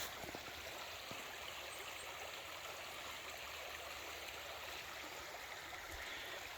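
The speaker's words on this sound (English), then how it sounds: "This creek's always changing." A West Virginia creek flows with a steady, even rushing and trickling of water, continuous and fairly faint, with no voices.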